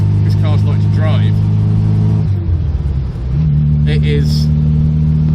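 A 1968 MG Midget Mark III hums along with a steady mid-pitched engine drone that briefly dips as it shifts, then settles back, while someone talks over it.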